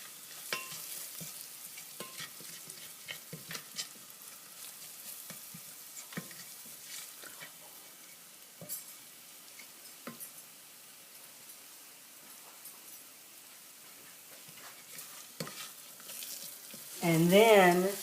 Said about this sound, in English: Saute this for about 2 minutes.